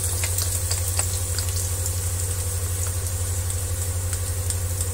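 Onion and garlic sauté in hot oil for mung bean stew, giving a steady close sizzle with light crackles over a constant low mechanical hum.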